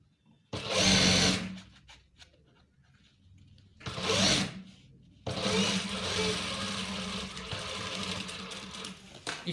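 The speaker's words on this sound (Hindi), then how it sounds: "इसी लाइन के ऊपर दोबारा हमने स्टिचिंग करनी है।" A sewing machine stitching trousers for a police uniform whirs in two short bursts and then a longer continuous run, loud and close.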